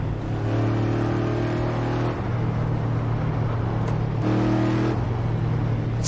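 An Assetto Corsa car engine drones steadily with a deep, rumbling V8 tone, its pitch shifting and revving up briefly before settling again.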